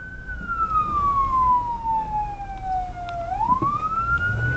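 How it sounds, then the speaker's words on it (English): A police car siren wails steadily during a pursuit, one long tone sliding down then sweeping back up, heard at moderate distance over road and engine noise. "the trooper activated sirens"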